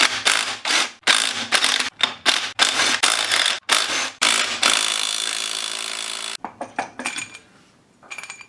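Bolts being broken loose on a 3.7 V6 Mustang engine during a single-turbo build: a rapid series of loud, sharp impact-tool bursts, then a sustained whirr, followed by a few shorter bursts and quiet clicks.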